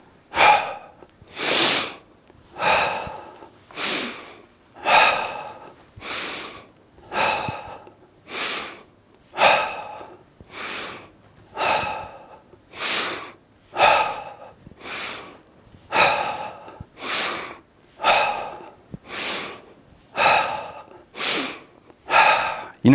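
Heavy rhythmic breathing during an Indian club warm-up: about twenty sharp, forceful breaths, evenly spaced and close to the microphone, with no talking.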